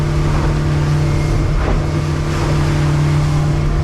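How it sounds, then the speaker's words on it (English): A motorboat engine drones loudly and steadily at about 22 knots on the open ocean, a constant low hum with rushing water and wind noise and no pauses. "That's how loud the motor is. We're doing about 22 knots at the moment."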